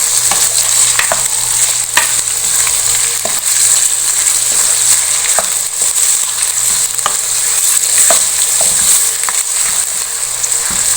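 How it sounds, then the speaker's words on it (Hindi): Onions frying in half a cup of oil for haleem make a loud, continuous sizzle, with frequent spoon scrapes and knocks against the pot as they are stirred. No voices are heard. "तो थोड़ा सा इसके साथ हमने प्याज के साथ फ्राई कर लेना है।"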